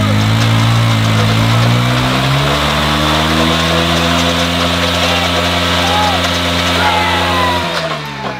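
Homemade tyre launcher machine running, a loud steady motor drone whose pitch shifts downward early on, then holds before cutting off near the end, with voices in the background.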